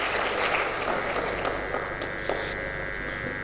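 Applause from the audience at the 3rd International Hindko Conference, a continuous bed of many hands clapping that sounds somewhat distant and quiet, fading slightly toward the end.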